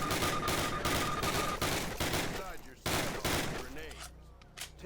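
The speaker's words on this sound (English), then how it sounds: "Now fire 2 rounds at your target while aiming down your sight" Rapid bursts of gunfire from the Call of Duty video game, loud and dense, with volleys that break off and start again, and a voice talking underneath.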